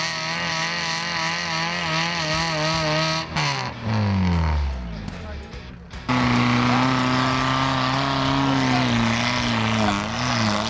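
A Lada Niva off-road car's engine strains and pulls, its harmonic drone shifting in pitch as it gains speed, dropping out briefly mid-way, then returning loud and steady with a rising whine.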